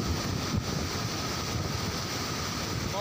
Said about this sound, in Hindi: बहुत ही खतरनाक आंधी और तूफान।